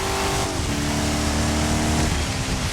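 A racing car in the Dirt 5 off-road video game drives with its engine droning loud and steady, shifting pitch as it revs and accelerates, with constant tire and gravel noise underneath throughout.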